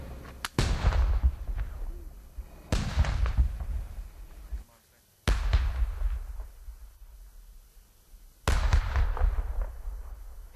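Insurgent bombs go off in a controlled detonation, four heavy booming blasts spaced a few seconds apart, each a sudden thump followed by a rumbling decay, with quieter talk between them.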